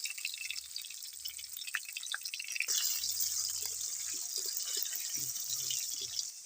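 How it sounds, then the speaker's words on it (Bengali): Potato pieces frying in hot oil in a wok, a constant bright sizzling hiss that swells louder partway through, with scattered small pops and crackles. "এখন আমি আলুগুলো ভেজে নেব"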